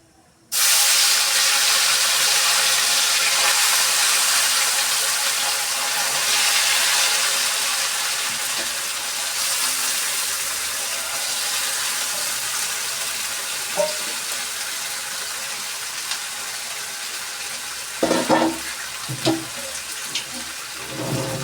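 Fish and potatoes sizzle in hot oil in a wok, a steady loud frying hiss lasting throughout, with a few clinks and stirring knocks near the end.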